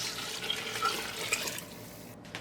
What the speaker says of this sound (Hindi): अब इसके अंदर गर्म पानी शामिल करेंगे,